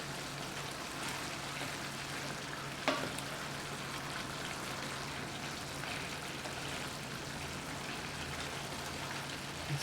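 Cooked shrimp sizzle as they heat in a pan of lemon butter garlic sauce, giving a steady, close crackle and hiss. One small clink breaks in partway through.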